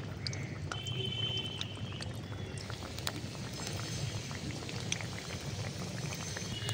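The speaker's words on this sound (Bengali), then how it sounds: "বিস্কুটগুলো ভাজার জন্য তেলের মধ্যে দিয়ে দিতে হবে" Savory salted biscuits deep-frying in hot oil give a steady, dense bubbling sizzle, continuous and close throughout, with faint clicks over it and no talking.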